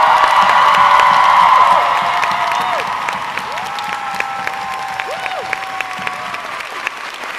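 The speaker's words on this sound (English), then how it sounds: "Can we all have the biggest round of applause for the people who make this happen and make it possible," A fan convention crowd applauds and cheers volunteers, loud dense clapping at first that eases into lighter clapping with rising whoops and scattered shouts from the audience.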